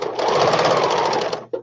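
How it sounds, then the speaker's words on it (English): Sewing machine running steadily for test stitches on a scrap of fabric, a close, continuous whir lasting over a second before stopping abruptly, followed by a faint clunk. "make sure that you play with a scrap of whatever fabric you're sewing and do some test stitches"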